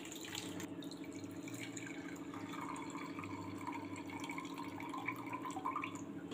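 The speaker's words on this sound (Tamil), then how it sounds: "இன்னொரு தடவை களைஞ்சி தண்ணியை அந்த பானையில் ஊற்றிக்கலாம்." Rinse water from washed millet rice and lentils being poured into a pot, a faint, quiet trickle and splash of liquid with light drips, heard close up in a kitchen with no talking.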